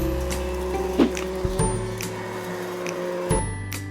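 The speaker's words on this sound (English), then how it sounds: "For vacuum users, just plug it in, put the hose over the valve, turn it on, and watch in awe as the bag shrinks down" A vacuum cleaner hose draws air out through the valve of a Hefty Shrink Pak bag, a steady droning hum with soft crinkles and thumps as the bag compresses.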